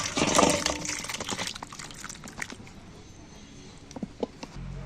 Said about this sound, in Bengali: এইবার আমি একটা জায়গার মধ্যে ঢেলে নিচ্ছি